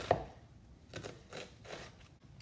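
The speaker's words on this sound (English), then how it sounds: "And I'm just gonna give this a quick dice." A knife dicing onion and cilantro for pico de gallo on a cutting board, a few soft, quick chops spaced irregularly, faint and close with no talking.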